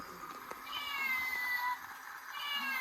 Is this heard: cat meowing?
yes